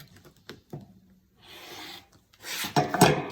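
A rotary cutter rasps along a ruler edge, trimming a pieced quilt fabric block, with short scraping strokes that build to a louder, denser cut toward the end; no talking.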